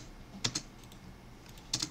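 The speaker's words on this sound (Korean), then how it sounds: "그리고 계속 스페이스바 클릭, 스페이스바, 스페이스바 클릭, 클릭, 스페이스바" Computer keyboard space bar pressed during CAD drafting, two quick pairs of close clacks spaced over a second apart, clear and near with no speech.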